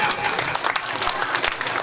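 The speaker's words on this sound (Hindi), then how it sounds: "जोरदार ताली होनी चाहिए।" A devotional gathering breaks into loud clapping, a dense burst of hand claps throughout with voices mixed in beneath it.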